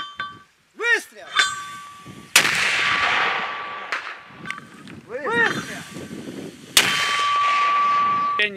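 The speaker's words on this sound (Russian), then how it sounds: "Миномет!" Mortar fire on a front line near Debaltseve in the Ukraine war: two sharp, loud blasts a few seconds apart, each ringing out in a long decay, with shouts and chirping between them.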